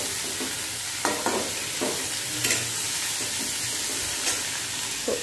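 A mixture, destined for a desi-style taco filling, lightly roasts in a pan with a gentle continuous sizzle and occasional soft scrapes of stirring, close and moderately quiet with no talk.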